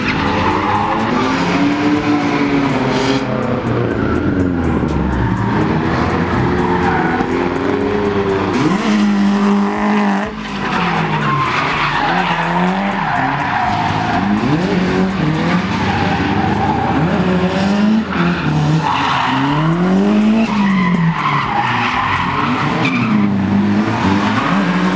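Drift car at a drift event, engine revving hard with continuous tire squeal and skidding, pitch rising and falling through repeated slides, loud and close throughout with crowd-level background noise.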